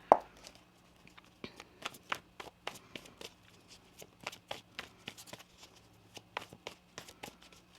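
Tarot cards shuffled by hand: a rapid series of crisp, close riffling slaps and flicks in an uneven rhythm, fairly quiet overall, with no speech.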